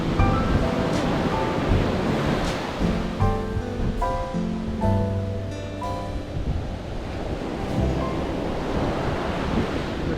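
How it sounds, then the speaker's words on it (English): Ocean surf rolls onto a beach in Brazil in the afternoon, a steady wash of breaking waves with wind buffeting the microphone throughout and no talk over it. "And here we are on this beach in Brazil."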